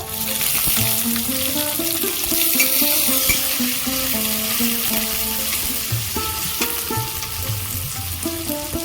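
Chopped onion sizzles in hot oil in a pan while a Bengali fish dish of lote fish is cooked, a steady close frying hiss under tonal music, with occasional stirring.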